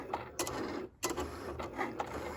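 A Cricut cutting machine works through sticker sheets, slicing bow shapes with a steady mechanical whir, its carriage shuttling back and forth in repeated rhythmic passes at close range.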